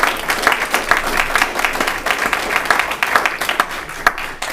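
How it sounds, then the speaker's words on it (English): Applause from a crowd, steady clapping that carries on throughout at moderate volume. "Let's give them a round of applause, please."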